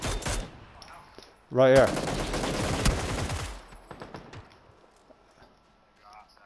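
Rapid bursts of gunfire in the battle royale shooter PUBG, a loud dense volley of shots lasting about two seconds, followed by fainter scattered shots and footsteps, with players talking over it.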